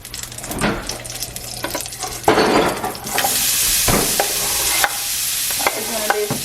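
Ground meat fries in a hot pan until crispy for an egg roll in a bowl, giving a loud, continuous sizzle broken by scraping stirs, with the hiss swelling after each turn.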